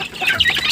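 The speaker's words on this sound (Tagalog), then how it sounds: "Mga sisiw." Young chicks chirping and peeping close by, a short burst of high, overlapping calls with no talking.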